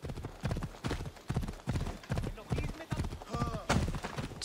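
Horse hooves clip-clopping in a steady rhythm during horseback riding in the video game Assassin's Creed Odyssey, clear and close, with someone talking over the hoofbeats.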